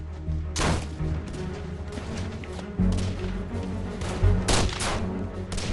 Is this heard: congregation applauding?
no